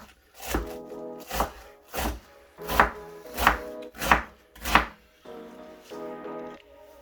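A kitchen knife chops cabbage and spring onions on a board for okonomiyaki, about eight distinct close thunks in a slow uneven rhythm, with a faint voice-like hum between strokes.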